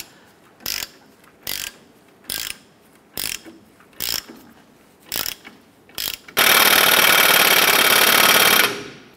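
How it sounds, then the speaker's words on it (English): On a 1994-2004 Chevrolet S10, a ratchet makes seven spaced, rhythmic clicking pulls while tightening a lower ball joint into the control arm. A continuous, louder grinding ratchet run follows, close up. "we're going to use our ratchet to get this started first"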